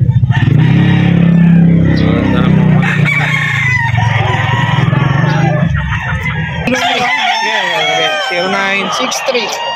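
Breeder gamefowl roosters crowing loudly nearby, several drawn-out cock-a-doodle-doo calls overlapping, with clucking and a voice talking in between.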